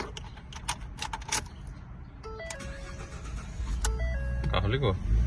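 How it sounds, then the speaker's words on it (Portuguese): A 2013 Ford F150 engine cranks and catches after keys jangle, with beeps and voices talking over it; the idle settles into a louder, steady rumble near the end. "O carro ligou."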